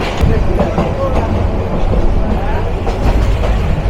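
The Teesta Express rumbles along inside a non-AC chair coach, a loud, steady low roar of wheels and carriage noise with faint rhythmic clicks throughout.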